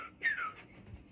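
A short whistle rings out as part of a joke handshake. It is a faint, quick, sliding note that falls in pitch, with no talk over it.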